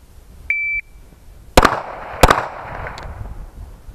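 Two sharp pistol shots ring out close together during a tactical pistol shooting exam, preceded by a short electronic timer beep, with reverberant decay after each shot.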